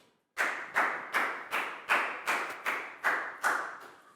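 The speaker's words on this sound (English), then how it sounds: "So high five and a big round of applause for Nadia." Classroom clapping for a pupil named Nadia during a Year 4 science lesson: about nine evenly spaced, rhythmic claps, close and fairly quiet, each with a short resonant tail.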